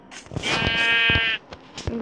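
Sheep bleats in the Minecraft video game: one drawn-out, wavering bleat, close and clear, with faint clicks and game sounds around it.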